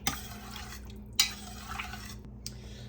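Canned medley tomatoes and their juice being stirred together in a pot: soft liquid sloshing and drips broken by a couple of sharp metal knocks against the pot, fairly quiet, with no voices.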